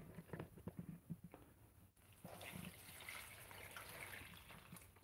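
Water is poured onto a potted tomato plant, a soft, quiet continuous splashing trickle that starts after a few faint taps and runs steadily to the end.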